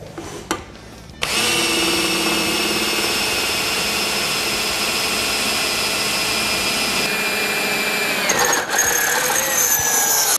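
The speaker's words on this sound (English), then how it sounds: "you're going to drill right along these edges where our pilot holes are on the boards" A power drill runs loud and continuous as it bores rivet holes along the edges of the chassis boards on an Arctic Cat ProClimb snowmobile, starting after a short pause and holding a steady whine with a small change in pitch near the end.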